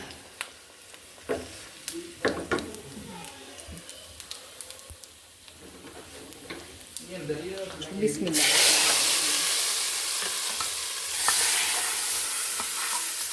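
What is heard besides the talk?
cumin and onion tempering sizzling while stirred in pan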